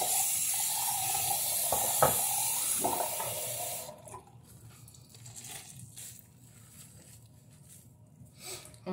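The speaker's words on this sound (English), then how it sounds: "Hope you guys can see me washing my face." Tap water runs steadily into a sink while someone washes their face, a broad hissing flow with splashes that cuts off about halfway, leaving quieter room sound and faint dripping.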